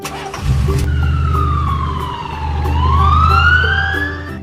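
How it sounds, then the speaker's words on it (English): A black police car siren sounds close and loud, its pitch gliding down then sweeping back up over a steady low engine rumble, with no voices. "Black police car."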